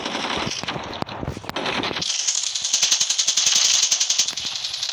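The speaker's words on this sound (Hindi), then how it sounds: "फजूल गोलियाँ ना चलाओ" Automatic gunfire in the video game Call of Duty, rapid rattling bursts. After a rough, muffled opening comes a sharp, bright, steady stream of shots, loud and close, with no voices.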